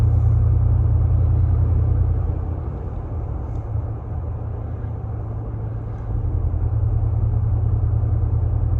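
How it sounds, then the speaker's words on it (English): A 2022 Ford F-150 Coyote V8 running with cylinder deactivation, a steady low engine rumble that dips slightly in level midway and then returns, with no voices. "Cylinder deactivation in my 2022 Ford F-150."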